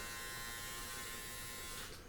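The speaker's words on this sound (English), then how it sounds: "push the button, and then there is a 3-head shaver" A Panasonic 3-head electric shaver runs with a steady, continuous buzzing hum, close and fairly quiet, alone without speech, fading slightly at the end.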